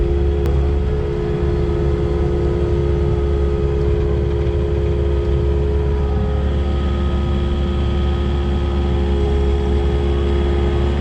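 A skid steer carrying a load of brush debris up a mountain toward a burn pile, its engine droning loud, close and steady throughout, with an even tonal hum and no talking.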